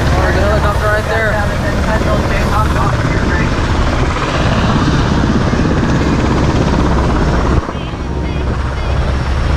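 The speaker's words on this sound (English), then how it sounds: "Oh, the helicopter right there." Steady, loud rotor and engine roar from a helicopter, with wind buffeting and a voice talking over it.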